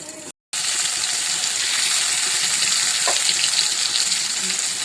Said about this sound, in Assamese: দি আকৌ ঢাকনিখন দি থৈ দিব, যাতে পটলটো ভালদৰে ফ্ৰাই হয়।